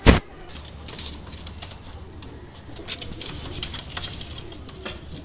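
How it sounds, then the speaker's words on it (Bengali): A pair of Saki bloodline racing pigeons are released, opening with a sharp burst of wing flaps up close, followed by lighter fluttering and soft bird sounds that continue at a moderate level. "দুইটা কবুতর ছেড়ে দেখাচ্ছি"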